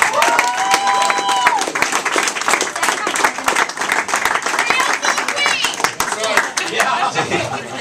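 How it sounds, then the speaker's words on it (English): A crowd at a political gathering breaks into clapping for a helper, loud and sustained applause mixed with chuckles and scattered voices, thinning out near the end. "I'd like to give Phyllis a round of applause for helping us out."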